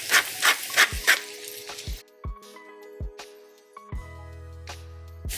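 Shiitake and crimini mushrooms sautéing in a pan: a burst of sizzling with scraping stirs at first, then quieter pan knocks and clanks with ringing tones as the frying settles.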